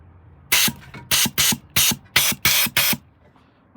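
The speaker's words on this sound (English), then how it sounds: "you've got a little canister of compressed air just to help clean up those valve cover gaskets" Compressed air pressurized to 50 psi bursts from a small canister in seven short, loud hissing blasts in quick succession, used to blow debris off valve cover gaskets on a Mercedes SL55 AMG M113k engine.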